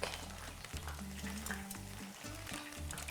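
Chicken fries in olive oil in a pan, a dense, continuous sizzle and crackle heard up close, with some low clanks of stirring underneath.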